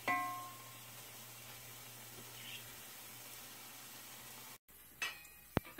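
Beef browning in a hot pan gives a steady, moderately quiet sizzle that holds evenly, then breaks off briefly before a few clattering knocks and stirring sounds.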